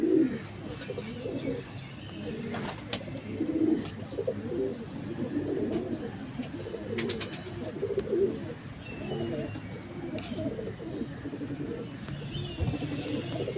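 Several pigeons coo softly in overlapping, rounded calls throughout, mid-distance, with occasional small chirps and faint background noise.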